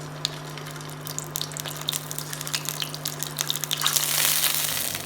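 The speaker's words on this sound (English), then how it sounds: "Now we have to fry our eggs." Eggs frying in oil in a pan for a dhaba-style egg malai korma, a steady crackling sizzle with scattered pops that swells louder near the end, over a constant low hum.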